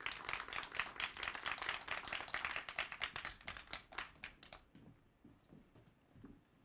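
An audience at a big data training course's final presentation event applauds a team, with dense, lively clapping for about four seconds that then stops abruptly, leaving near silence.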